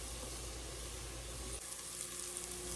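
Bacon and black-eyed peas for hoppin' john sizzle and fry in a pan, a steady broadband crackle that runs the whole time without talk and shifts slightly in tone partway through.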